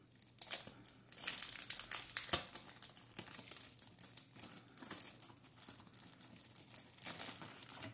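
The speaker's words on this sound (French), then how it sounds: "je vais vous le sortir du papier" Paper packaging crinkling and tearing as a small rubber stamp with a bubble-pattern background design is unwrapped, a steady close rustle lasting throughout with a few sharper crackles.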